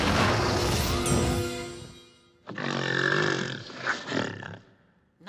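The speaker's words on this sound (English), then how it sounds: "Make a brute that snorts and roars." A magically conjured brute in a teenage witch sitcom lets out a loud, rumbling animal roar that runs about two seconds, then roars again more raggedly with a crash-like burst before trailing off.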